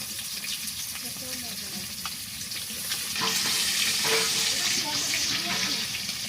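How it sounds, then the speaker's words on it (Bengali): Koi fish frying lightly in oil, a steady close sizzle running the whole time and growing a little louder partway through, with faint clinks and light stirring sounds. "আপনারা যত পারবেন হালকা করে ভেজে নেবেন"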